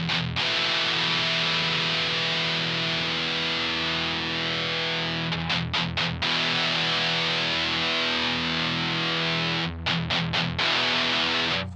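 An electric guitar played through a Boss MT-2 Metal Zone distortion pedal, heavily saturated sustained chords ringing on, then broken by a few quick choppy strums before settling into more sustain.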